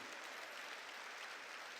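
Church congregation clapping in steady, dense applause, a continuous wash of many hands with no talk over it.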